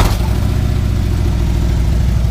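A motorcycle engine fitted with a 4-inch Rinehart slip-on exhaust runs loud and close, with a steady deep rumble and a slight rev at the start, then holds a throbbing high idle for the rest.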